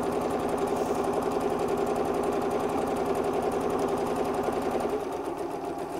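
A sewing machine stitches a tea cosy, running over a previous line to lock the ribbon-channel stitches, with a steady, close, rapid mechanical chatter that eases slightly in the last second. No one speaks.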